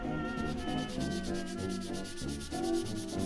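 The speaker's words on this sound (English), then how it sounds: "Jump right into some sanding here" Steady sanding scrapes on Art Deco wooden furniture being restored, with continuous rubbing strokes of abrasive on wood, close and fairly loud, with no talking.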